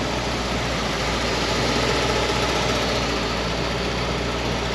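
A 1968 fastback, a barn find restarted after 15 years, idles loudly up close, a dense, rough rumble with steady low knocking and vibration that never lets up.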